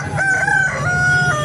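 A rooster at a country chicken market crows once, loud and close, a drawn-out cry over a low background murmur.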